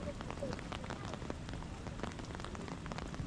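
Steady rain patters on surfaces near the Marikina River, a fairly faint, dense hiss scattered with individual drops and with no clear voices over it.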